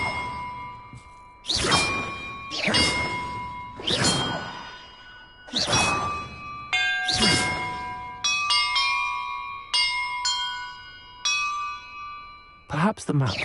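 Bells in the video game Hogwarts Legacy ring out one after another, each a bright metallic strike with a long ringing decay, about six separate chimes spaced irregularly, then a quick flurry of shorter tones near the end.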